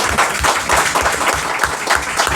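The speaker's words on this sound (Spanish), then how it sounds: "le dedicamos un aplauso, creo que sí" An audience at a comic book presentation applauding, a dense burst of clapping with a loosely rhythmic pulse, loud and close.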